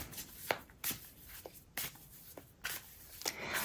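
Tarot cards shuffled by hand in short, soft bursts of riffling, about half a dozen quick swishes spaced roughly half a second apart, quiet and close with no talking.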